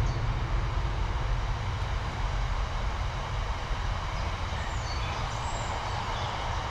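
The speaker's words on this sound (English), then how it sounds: "Hang on, the train coming past." A train passes close by outdoors in Sheffield in spring, a loud steady rumbling roar of wheels and engine that fills the whole stretch without letup.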